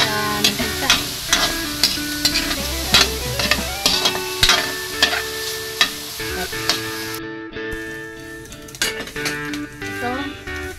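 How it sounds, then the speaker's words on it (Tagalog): Pork sautéing in a pan to render its oil for ginataang langka, a steady sizzle punctuated by regular scraping clacks of a spatula against the pan, the frying dropping briefly quiet near the end before the stirring resumes. "igisa muna natin yung ating pork para mag-oil siya"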